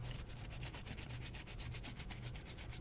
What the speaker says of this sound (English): And I'm just rubbing that paint off.